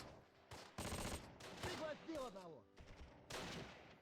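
Bursts of gunfire from the Close Combat wargame as a machine gun team is taken out, several sharp clustered volleys separated by short gaps, fairly close and alone without talk.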